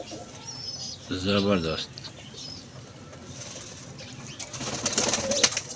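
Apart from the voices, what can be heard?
pigeon cooing and flapping wings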